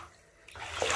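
Bathwater sloshes and splashes as a wave is pushed over someone small being bathed, starting quiet and swelling into a louder, close burst of splashing toward the end.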